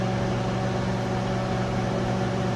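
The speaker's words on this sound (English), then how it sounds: "I'm going to be melting it inside the microwave oven" A microwave oven hums at a constant, close, fairly loud level as it melts Irish butter, with no talking over the drone.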